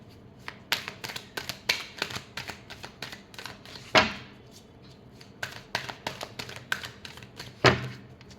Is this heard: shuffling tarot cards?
yes